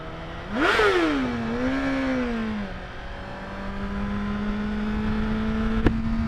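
Honda CBR1000RR motorcycle riding, the engine revving up sharply, dropping back, then settling into a steady cruising drone with a brief click near the end, heard from the rider's position.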